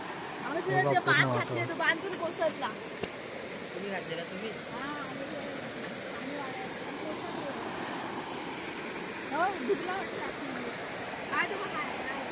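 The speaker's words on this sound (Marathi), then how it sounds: "बघ बघ कुठनं पाणी येते ते" Water runs and gurgles in a steady stream in a village setting, a continuous moderate wash heard beneath several people chatting nearby.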